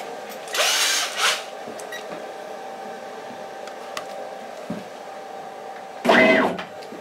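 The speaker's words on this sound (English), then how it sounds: "Maybe I can just drill a hole in here." Power drill running through a hole during a tweeter aluminium foil project, two loud whirring bursts early on, then a quiet stretch and one more short, loud burst near the end.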